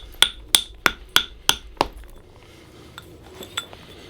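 A hammer strikes a rough stone six times in an even rhythm to trim its sides, each blow a sharp, ringing, close-up clink, followed by a few softer scraping taps.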